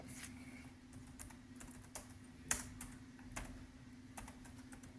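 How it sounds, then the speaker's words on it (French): Quiet typing on a computer keyboard, with scattered irregular key clicks over a low steady hum and one slightly louder keystroke midway. "je vais taper la même chose"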